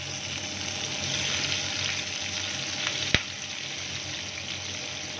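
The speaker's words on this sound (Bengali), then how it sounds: "এবারে সেই তেলেই দিয়ে দেবো ক্যাপসিকাম" Capsicum pieces hit hot oil left over from frying prawns for chilli prawn, a steady close sizzle with one sharp clack partway through, and no talking.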